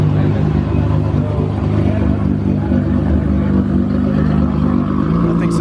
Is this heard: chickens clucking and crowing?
no